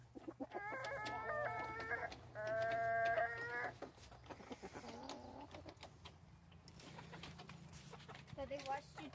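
A person imitates a chicken with a series of clucking, crowing squawks, near and fairly loud, with some talking and background noise between them.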